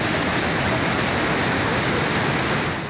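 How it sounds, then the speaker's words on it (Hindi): A raging waterfall swollen by heavy rain beside a hillside ashram in Satna, Madhya Pradesh, roars as a loud, steady, dense wash of rushing water with no letup. "इस आश्रम से सटा हुआ एक झरना है, जिसने बारिश के चलते रौद्र रूप ले लिया।"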